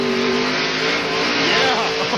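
A NASCAR stock car on a wet road course accelerates hard out of a corner, its engine roaring loud and close in a rising drone, with a race commentator speaking over it.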